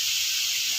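Water is poured back into a hot wok holding spiced pakcoy seasoning, giving a steady, loud, close hiss of steam that lasts the whole moment with no talking.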